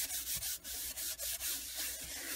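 A plastic Embossing Buddy rubbed over vellum cardstock gives a soft, steady scratchy rubbing in short repeated strokes, close and fairly quiet, with no voices.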